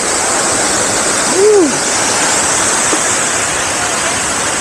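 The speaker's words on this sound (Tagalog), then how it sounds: "Mini falls dito sa Manitoulin Island." A small waterfall on Manitoulin Island, Ontario, gives a steady, full broadband rush of falling water that fills the whole clip, with a brief voice briefly rising over it.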